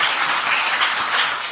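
An audience at a poetry competition applauding, dense even clapping from a crowd, continuous and fairly loud throughout with no voices over it.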